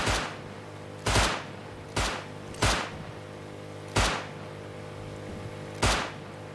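Gunfire in the video game Rust, six sharp single shots spaced about a second apart, each loud and close with a short decaying tail, and no talking between them.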